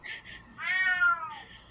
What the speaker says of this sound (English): My cat is doing her warbling.